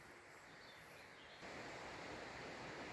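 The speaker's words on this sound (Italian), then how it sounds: "nel video si sente l'acqua" Water rushes beneath a Tibetan suspension bridge in Val Sorda: a steady, faint wash of flowing noise that swells slightly halfway through, with no voices.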